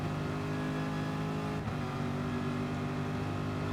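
Gran Turismo Sport race car at full throttle on the Alsace Village track: a constant loud engine whine with a quick gear-change dip midway, then the drone resumes unchanged.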